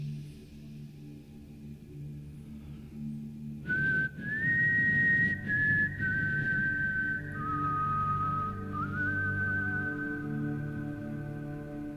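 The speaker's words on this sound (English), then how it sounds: "A whistle." After a low hum, someone whistles a simple melody, clear sustained notes that step between pitches over a rumbling background.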